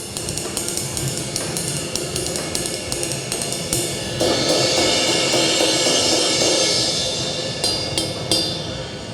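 A Zildjian 23-inch medium thin ride cymbal crashed and ridden, with repeated stick hits over a dense, shimmering wash that swells midway and sustains loudly throughout.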